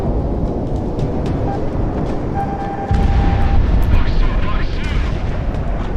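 Aircraft cannon fire from a jet fighter in the flight combat game Project Wingman, heard as a dense, continuous rumbling burst that swells louder midway and holds steady under game engine noise.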